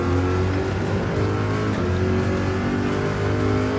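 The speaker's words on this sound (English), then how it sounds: "clipping the ripple strip and powering out" A GR3 race car in Gran Turismo 7 powers hard out of a corner at Trial Mountain with a loud, sustained engine roar at high revs, close and continuous, with faint tire noise.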